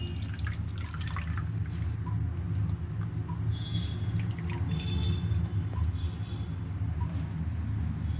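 Grated potatoes being squeezed by hand, with water dripping and trickling in small irregular patters over a steady low background hum, no speech.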